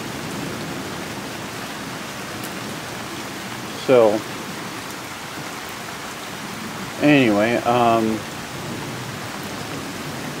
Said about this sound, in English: Pretty decent pace for the rain coming down.